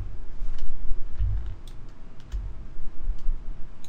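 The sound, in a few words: pressing a computer keyboard shortcut key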